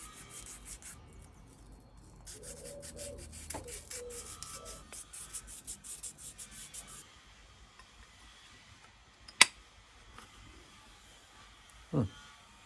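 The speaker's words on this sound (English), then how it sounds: "So we're just going to pass a little bit of sandpaper around inside here," Sandpaper rubbing around the inside of a camshaft-area part while building a CB Performance 2017cc engine, a faint, steady scratchy friction for several seconds, then quieter, with two sharp clicks or knocks near the end.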